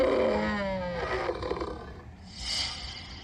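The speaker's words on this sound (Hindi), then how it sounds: "कुएं में उसकी ही आवाज गूंजकर वापस आई।" A lion's roar sounding from down inside a well and echoing back, one loud drawn-out roar followed by a hollow, reverberant tail.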